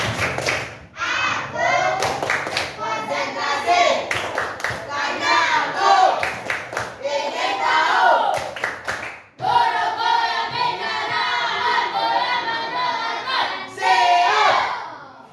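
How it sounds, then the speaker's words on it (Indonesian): Classroom of children doing the patterned tepuk konsentrasi concentration clap, bursts of rhythmic group clapping alternating with chanted voices, close and lively, pausing briefly midway before resuming. "sebelum mulai pembelajaran kita tepuk konsentrasi dulu. Tepuk konsentrasi."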